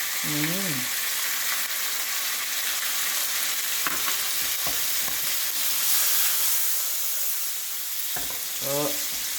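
Steady, loud sizzling of steak frying in a pan, with brief clicks and a couple of short voiced sounds at the start and end.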